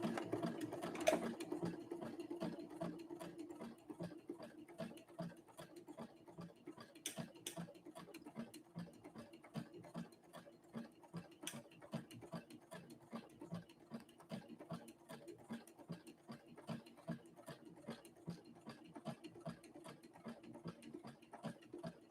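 Faint, steady mechanical ticking and whirring from a Brother Innovis 1500D sewing machine stitching a three-point zigzag at moderate speed, running continuously.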